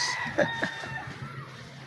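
A rooster crows once, fairly close, its broken call rising and falling over a second, with faint background noise and no talking.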